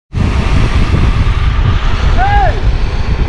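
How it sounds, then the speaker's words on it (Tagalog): Strong wind buffets the microphone in an open coastal area of Botolan, Zambales, a loud continuous roar with broadband rumble throughout, and a faint whistle-like tone rising briefly near the end. "kaso napakalakas ng hangin"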